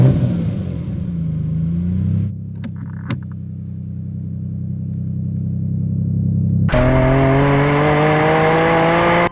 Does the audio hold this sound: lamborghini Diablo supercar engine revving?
yes